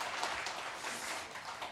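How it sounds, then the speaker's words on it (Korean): A church congregation's applause rolls in a brief, steady patter of many hands at a moderate distance, with no voices over it. "우리 박수 한번 보내주시기 바랍니다"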